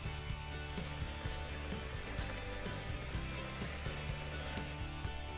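Burgers sear on a hot surface, a steady, dense sizzling hiss with faint irregular ticks and pops running through it, quiet and continuous with no talking.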